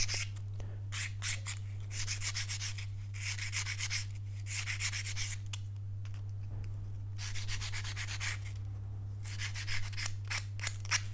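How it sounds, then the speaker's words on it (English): Sandpaper rubbed over a herringbone rosette strip for a classical or flamenco guitar, making several bursts of soft, raspy scratching in quick back-and-forth strokes, close up, over a constant low electrical hum, with no speech. "I'm going to get a bit of sandpaper and I'm just going to remove this fluff"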